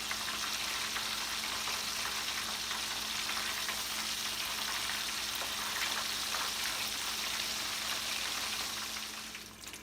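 Food fries in hot oil for Ramadan meal prep, giving off a continuous, even sizzle and crackle at close range that holds steady throughout and fades slightly at the very end.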